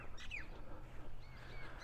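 Birds call in a garden in Innisfail, Australia, on a warm, humid morning: a single sharp chirp stands out early, followed by a few fainter, thin calls over steady outdoor background noise.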